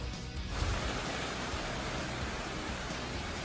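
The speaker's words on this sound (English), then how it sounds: "just listen to that heavy rain coming down near Maricopa" Heavy monsoon rain pours down near Maricopa, Arizona, a dense, steady hiss that fills the whole clip at close range with no voices.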